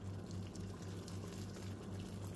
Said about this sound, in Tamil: இப்போ கொஞ்சமாக தண்ணி ஊற்றணும் கொஞ்சமாக